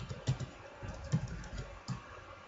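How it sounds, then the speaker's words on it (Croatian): Keystrokes tapped out on a computer keyboard while entering text in Photoshop, a few soft, uneven clicks spread across a short, quiet stretch with no talking. "I kada kucate nešto"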